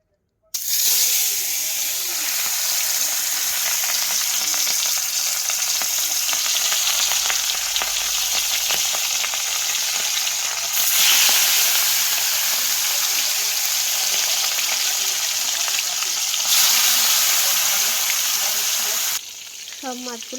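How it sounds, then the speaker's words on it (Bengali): Katla fish pieces fry in smoking-hot oil, a loud, close, continuous crackling sizzle that holds steady throughout with slight surges in intensity. "এবার মাছটাকে ভালো করে ভেজে নেব"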